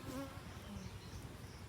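Honeybees at a village hive in a group beekeeping session give a continuous, even buzz of many insects, soft and steady with no voices over it.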